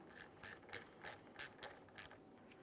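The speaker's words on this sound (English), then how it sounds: "To tighten this, we're going to have to use a Phillips head bit." Screw being driven with a Phillips head bit, likely by a ratchet, while replacing the brake master cylinder on a 2008-2017 Mitsubishi Lancer: a series of about eight quiet, evenly spaced ratcheting clicks, close and faint.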